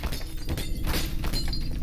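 Glass shattering inside a Garry's Mod horror map, a loud dense crash and breaking burst filling the short clip with no talk over it.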